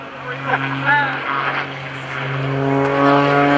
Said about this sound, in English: Pushes that stick hard to the left, airplane rolling all around